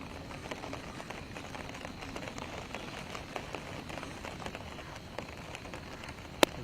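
Heavy rain patters on a surface at a distance in the dam area of Kolhapur, a dense, even hiss of drops with no voices.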